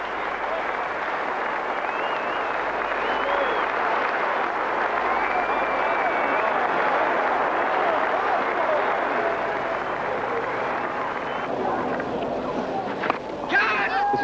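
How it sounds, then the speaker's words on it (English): A Sydney Cricket Ground crowd gives a standing ovation to Desmond Hohns at a cricket match: a dense, steady wash of applause and crowd roar that holds for the whole stretch, with a few sharper knocks near the end. "Desmond Hohns gets a standing ovation from the Sydney Cricket Ground crowd"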